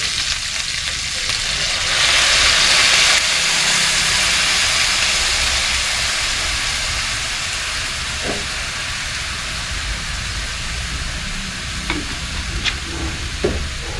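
Dried frog adobo sizzling loudly in a pan as soy sauce goes in, a dense continuous frying hiss that swells briefly, with a few faint clinks of a utensil.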